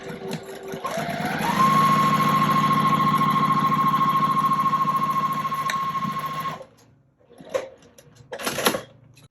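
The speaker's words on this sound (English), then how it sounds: "So now you're going to stitch this with a 1/4 inch seam allowance." A sewing machine runs a 1/4 inch seam, motor humming at a steady pitch for several seconds after a quick rise in speed, close and loud, then stopping, followed by a few soft handling knocks.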